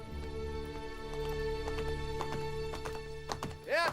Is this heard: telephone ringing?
no